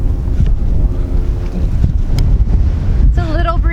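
Gusty wind buffets the microphone outdoors on a hillside among young Christmas trees, a steady loud roar that fills the whole moment. A faint tone rises near the end.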